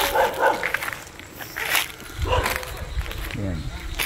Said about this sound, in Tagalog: May aso doon, eh.